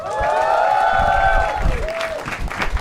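An audience at a comedy talent show applauds and cheers for a guest singer, a broad, sustained burst of clapping with crowd noise and a musical tone riding over it.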